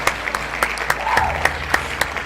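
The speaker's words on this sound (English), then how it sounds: "Everybody clap that" Clapping from a small group at home, as from neighbors joining in, with sharp, regularly spaced claps over a light background of scattered applause and a brief voice.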